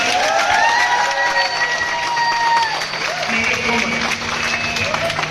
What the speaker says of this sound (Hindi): जोरदार तालियां बजा के दिखा दीजिए।